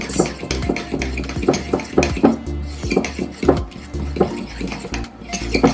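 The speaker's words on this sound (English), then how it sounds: "Whisk it because you want the same consistency throughout." Jamaican cornmeal porridge being whisked in a pot, with a rapid series of metallic clinks and scrapes against the pot sides in an uneven rhythm, close and clear.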